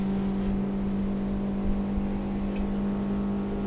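A Yamaha F115 four-stroke outboard motor on a Quintrex 530 boat drones on the water at a constant pitch with a strong low hum, running continuously and loud throughout, with no voices.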